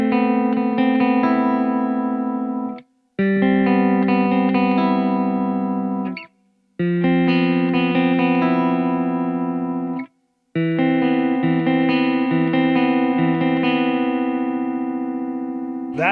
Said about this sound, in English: That is a pretty sweet clean tone.